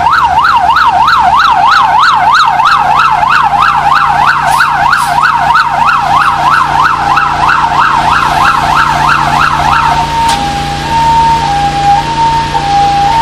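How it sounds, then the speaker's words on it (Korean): Emergency sirens from fire rescue and ambulance vehicles arriving at a fire drill in a traditional folk village, a loud rapid wailing siren cycling steadily for ten seconds, then switching to a slower two-tone pattern. "성주소방서 구조대, 구급대, 보건소 구급차가 사이렌을 울리며 현장에 도착하고 있습니다."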